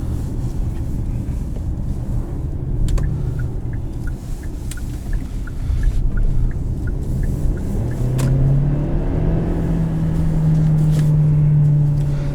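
A Hyundai Santa Fe Sport 2.0T turbo engine pulls hard from inside the cabin, a low steady rumble and road roar that swells as the engine note climbs in pitch during acceleration, with no talk.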